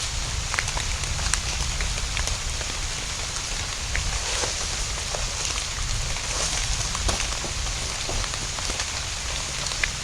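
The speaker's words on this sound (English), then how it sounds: "this short video of the first monsoon rain, or you know, a rainy day in my farm" The first monsoon rain of the season pours steadily onto a farm, a dense, even hiss of drops hitting the ground and leaves, with scattered louder pattering and no voices.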